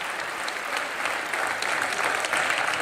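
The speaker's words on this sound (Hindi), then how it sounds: "ये हमारी ऑडियंस बड़ी कमाल की है, ये मार पिटाई पे जरूर ताली मारती है" Studio audience applause on a Hindi-language talk show, a steady dense patter of many hands clapping throughout, fairly close and continuous with no voices.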